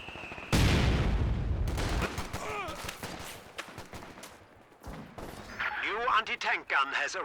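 A bundle grenade explosion in the Company of Heroes 2 video game, a sudden loud blast followed by scattered gunfire and battle noise, with a commentator talking over parts of it.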